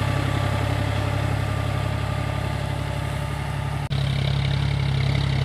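John Deere 5045 4WD tractor pulling a cultivator through wet farmland, a steady mid-level diesel engine drone heard close by, with a brief dropout partway through before the engine sound resumes.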